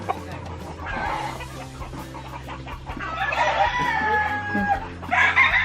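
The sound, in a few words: chicken about to be slaughtered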